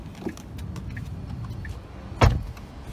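Someone climbs out of a Tesla: soft cabin shuffling and faint clicks from the door, then a single solid door thud near the end, close by and alone with no voices.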